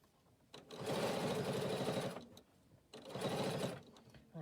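A sewing machine stitches in two sustained bursts with strong thread, pausing briefly between runs, steady and close.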